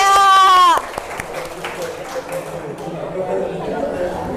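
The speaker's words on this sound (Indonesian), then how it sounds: "Oke, tepuk tangan untuk kita semua ya." Classroom group clapping during a social-emotional learning lesson, scattered moderate applause mixed with chatter, following a brief loud tonal sound at the start.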